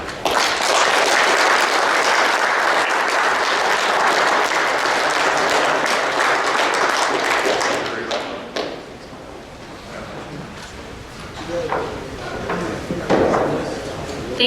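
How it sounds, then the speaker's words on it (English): Audience at a construction industry event applauding loudly and densely for about eight seconds, then the clapping fades to scattered claps and murmuring with some knocks and movement noise. "Another round of applause for him."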